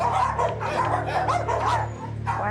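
Many dogs in an animal hoarder's crowded home bark, yip and whimper in overlapping bursts, close and fairly loud against a steady low hum, with no clear talk.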